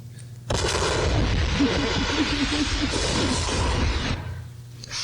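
A movie explosion scene plays back as a sudden loud boom that rolls into a sustained roaring blast with rumbling debris for several seconds before cutting off abruptly.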